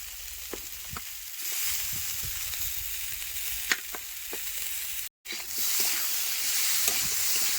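Potatoes and cauliflower frying with spices in a pan for a village-style curry, a steady close sizzle punctuated by sharp spoon clicks and stirring scrapes, with one brief dropout.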